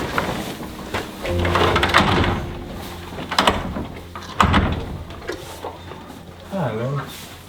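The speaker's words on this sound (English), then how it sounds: "Yep, close that door." A door is pushed shut in a farm setting with cows, producing a few knocks and a scraping slide amid rustling, while people talk and animals make sounds.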